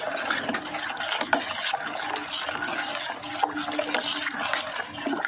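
Water poured into a small clay pot or metal ghoti of watermelon sherbet being mixed at home, a steady close splashing and trickling that runs the whole time with faint clinks.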